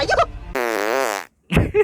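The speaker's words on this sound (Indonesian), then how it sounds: "Lu sendiri yang kentut" A single drawn-out, buzzing fart lasts under a second, loud and close, with brief bits of speech just before and after it.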